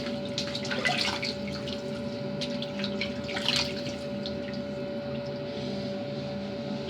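Tap water runs steadily into a sink as someone rinses their face after a shave, with soft splashing and a couple of brief louder splashes close by, and no speech.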